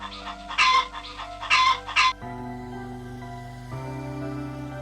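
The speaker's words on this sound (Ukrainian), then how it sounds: "Так, це курка." Several short clucking calls from a chicken, close and fairly loud, over a steady tonal background that shifts in pitch partway through.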